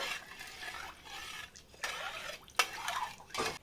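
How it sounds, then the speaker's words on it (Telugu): Soaked basmati rice mixed with salt, lemon juice and oil in a metal pot, a series of close scraping and clinking strokes of a utensil in bursts, with wet sloshing between them. "ఇప్పుడు దీన్ని ఒకసారి బాగా మిక్స్ చేసేసుకుందాం"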